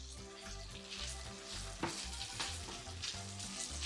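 Ground beef, 80-20, browning in a pot sizzles steadily up close, with a few stirring scrapes and clicks over a low rumble and no voices.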